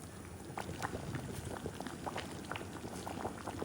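Water bubbling at a steady boil in a pot of Uttarandhra-style chicken pulao, a dense continuous burble of small pops, fairly close and even throughout with no voices.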